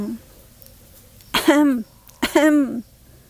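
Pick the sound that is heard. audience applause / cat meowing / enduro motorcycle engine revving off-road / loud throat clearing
loud throat clearing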